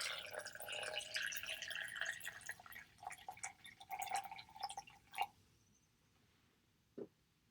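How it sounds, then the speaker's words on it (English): Water fizzing and bubbling up around four pieces of chalk in a small container, with soft crackling pops and drips that fade to a few isolated faint blips; quiet and close. "It's like bubbling up."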